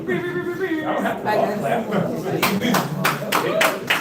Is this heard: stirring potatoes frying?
no